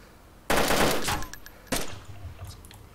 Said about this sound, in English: Keep taking shots to cover my tracks here.